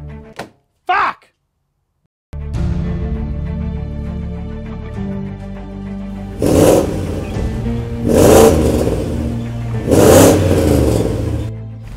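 A 4.4-litre BMW V8 car engine starts after a couple of door thunks and idles steadily, then revs up three times in distinct swells, loud and close.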